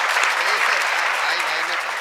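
Audience applause at a Hindi comedy show, dense and steady clapping from a large crowd, loud and sustained, with voices mixed faintly underneath.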